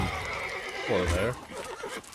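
Geralt's horse Roach from The Witcher 3: Wild Hunt gives a loud, close whinny with a wavering pitch, heard alongside hoof clip-clops and a voice.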